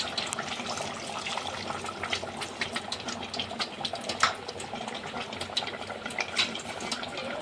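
Water pouring and splashing steadily into a pot of mutton curry, a continuous liquid gush with small bubbling spikes, close by and without talk.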